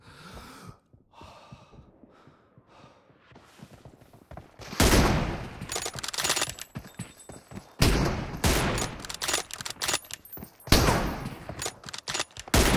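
Gunfire in PUBG, loud bursts of rapid shots and fusillades that come in waves after a quieter start with heavy breathing and gasps.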